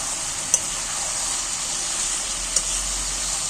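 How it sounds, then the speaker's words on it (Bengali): Chicken curry with turmeric being stirred in a pan over a wood-fired stove, a steady close sizzle of frying with two sharp utensil knocks against the pan, no talking. "হলদিটা দিয়ে আমি আবারও নাড়াচাড়া করছি"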